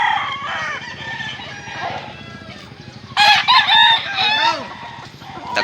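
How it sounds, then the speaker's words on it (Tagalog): Gamefowl roosters and chickens in a yard, with softer clucking and chatter first, then a loud, close rooster crow in several bursts, amid steady background noise. "Mga baratohon nga manok."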